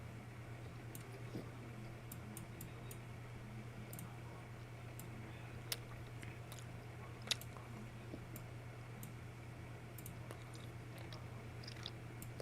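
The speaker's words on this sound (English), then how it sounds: "I'm gonna eat some gum if that's okay" Gum chewed close to the microphone in a quiet room, making faint, irregular moist clicks and smacks over a low steady hum.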